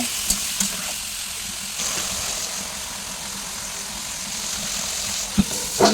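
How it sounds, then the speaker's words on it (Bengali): Potatoes with salt and turmeric frying in hot oil in a wok, a steady loud sizzle throughout with occasional sharp scrapes and clatters of a stirring utensil, no voices. "আলুগুলি ভাজা ভাজা করে নেব"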